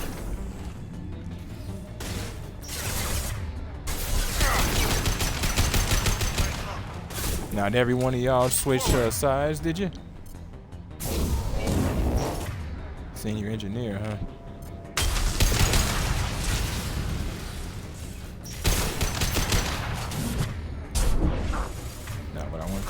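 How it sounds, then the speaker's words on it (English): Gunfire in Mass Effect 2 Legendary Edition cracks out in bursts and heavy impacts across a combat mission, mixed with mechanical clanks and booms, often under character dialogue. "There's gunfire in here."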